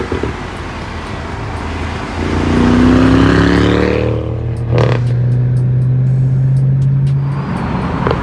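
A BMW 650i with a twin-turbo 440-horsepower V8 accelerating hard in a roll race, a loud rising engine roar climbing through the revs, a shift break, then another strong pull heard close.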